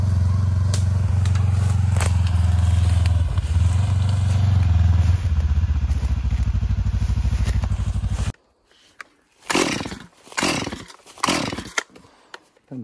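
A 2022 Segway Fugleman UTV engine runs loud and close with a steady, rough drone for about eight seconds, then cuts off abruptly. Quieter thumps and handling noises follow, and no one speaks.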